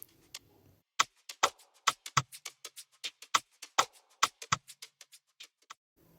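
Two shaker loops layered together in an FL Studio afroswing beat, a steady pattern of crisp, close percussive hits with short silences at the start and end, no voices.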